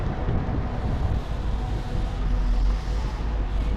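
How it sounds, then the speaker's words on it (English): Strong wind roars across a busy street in Göynük, Turkey, as a heavy, continuous low rumble buffeting the microphone for the whole stretch. "It's a super windy day today."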